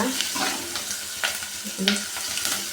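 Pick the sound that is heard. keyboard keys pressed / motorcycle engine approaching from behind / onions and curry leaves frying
onions and curry leaves frying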